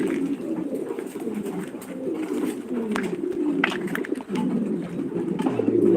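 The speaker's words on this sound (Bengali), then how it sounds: "খুব সুন্দর একটা রেয়ার একটা কবুতর এটার নাম হচ্ছে ড্যানিশ" Dense, continuous throaty cooing of many pigeons at a pigeon farm, a rare Danish breed among them, close and loud with faint clicks and a quiet voice now and then.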